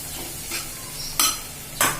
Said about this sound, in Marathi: पेस्ट छान परतून घ्यायचं आपल्याला अगदी पेस्ट येईपर्यंत